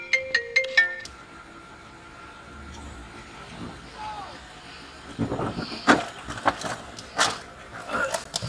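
A mobile phone ringtone plays in a few loud repeated tonal bursts at the start, then fades out, leaving quiet room tone and later some movement and talk.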